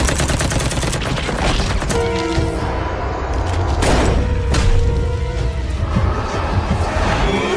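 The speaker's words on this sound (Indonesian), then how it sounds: "Raja zombie terus diberondong peluru oleh Malcolm, akan tapi peluru tersebut tidak bisa memusnahkan si raja zombie" Gunfire from a zombie horror film scene in which a zombie king is shot: rapid bursts of loud, sharp shots and cracks layered with booms and clanking, with no voices.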